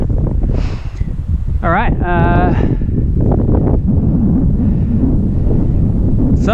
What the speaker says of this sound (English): so we wait for the wind to drop